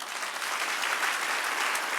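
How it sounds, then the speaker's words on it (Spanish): A church congregation applauds during a sermon, a steady, dense wash of clapping that holds evenly from start to finish at moderate volume, with no voices standing out. "Denle un aplauso al Señor"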